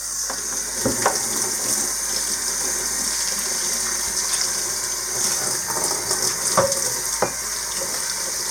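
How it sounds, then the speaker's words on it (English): Tap water runs steadily over a glass demijohn as its soapy outside is rinsed, a continuous splashing hiss with a few brief clinks and knocks, close and alone without talk. "Rinsing the outside off first so it's not slippery with the soap."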